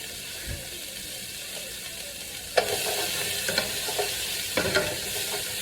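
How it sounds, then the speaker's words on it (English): Onions and green peppers frying in a pan that just held chicken, a broad close sizzle with a few sharp stirring scrapes and clatters partway through, no talk. "in that same pan you took your chicken out of, you could just add your onions and green peppers"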